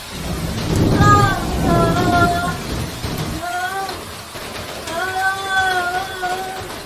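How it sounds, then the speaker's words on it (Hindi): Rain and thunder effect in an animated horror story: a low rumbling roll of thunder swells early over steady rain hiss, while voices and tonal sounds rise above the storm through most of the passage. "नेहा की माँ बेसब्री से बारिश के रुकने का इंतजार कर रही थी।"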